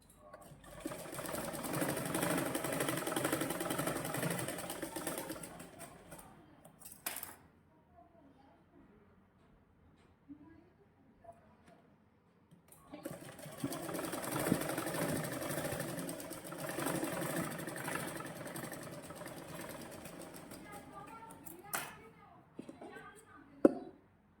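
Electric sewing machine stitching a tube blouse, a steady fast whirring run that stops for several seconds of quiet with faint handling, then a second long stitching run, with someone speaking over parts of it.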